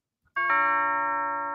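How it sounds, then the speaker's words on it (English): A rich, mansion-style doorbell sounds a single loud chime that starts abruptly and then rings on steadily as a sustained, slowly fading tone, with nothing else heard. "That sounds like a very rich doorbell."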